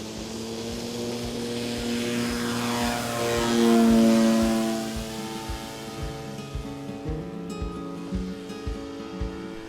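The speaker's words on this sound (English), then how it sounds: "Flying early in the morning when it's calm is lovely with one of these big floaty biplanes" A quarter-scale model DH60 Gipsy Moth propeller biplane drones overhead on a calm morning, its engine swelling louder as it passes close by, then fading into a steady, pulsing buzz.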